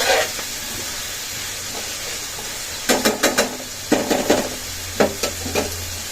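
Vegetables fry in a pan with a steady background sizzle, broken by several sharp bursts of louder hissing and stirring scrapes near the middle and end; no one talks.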